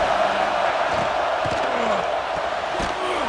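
Stadium crowd in an EA Sports College Football game: a broad, steady roar of many voices with scattered shouts and thumps, loud and continuous throughout.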